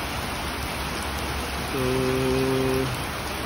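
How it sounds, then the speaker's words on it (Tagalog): Heavy rain falling steadily outdoors in a rural area, an unbroken hiss throughout, with a short tonal hum partway through and no clear talk. "Malakas ang ulan kaya hindi na sila lumabas."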